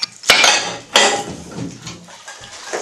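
Dishes and an old frying pan being washed by hand, with sharp clanks and clinks of pots and cutlery close up, two loud knocks followed by softer rattling and scrubbing.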